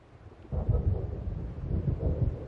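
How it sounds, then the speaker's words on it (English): Thunder from a coming storm in Alan Wake, a deep rumble that swells after a quiet start and rolls on heavily to the end, low and booming with no speech. "It seems there's a storm coming."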